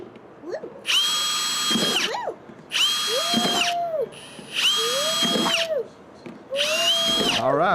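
A power drill whines in four bursts of about a second and a half each, separated by brief pauses, loud and close.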